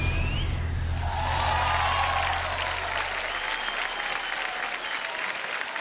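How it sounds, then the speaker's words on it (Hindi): A crowd at a Bhojpuri show applauds loudly and continuously, with sustained, even clapping throughout and a low hum beneath. "जोरदार ताली होनी चाहिए।"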